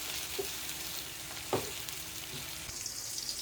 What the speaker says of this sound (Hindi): 3 से 4 मिनट हम इसको भून लेंगे।